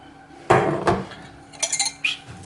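Metal utensil clanks and scrapes against a saucepan of lemon cream being stirred on the heat, a few sharp knocks followed by lighter clinking, close and fairly loud.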